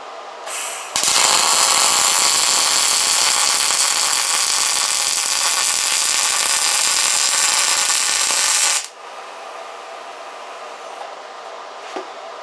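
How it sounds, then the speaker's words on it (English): An Everlast MTS 225 MIG welder on auto set at 24 volts, using A515 shielding gas mix, lays a bead with a loud, harsh, steady buzzing crackle for about eight seconds, then stops abruptly, leaving quiet room noise. "that definitely sounded like your typical MIG process"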